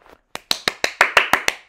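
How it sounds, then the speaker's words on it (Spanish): A short burst of hand claps, roughly eight sharp, evenly spaced claps in quick succession, close and fairly loud after a faint soft tap at the start. "Aplausos, por favor."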